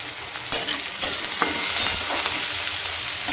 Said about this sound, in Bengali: এই দেখো পেঁয়াজটা এইরকম ভাজা ভাজা হয়ে গেল।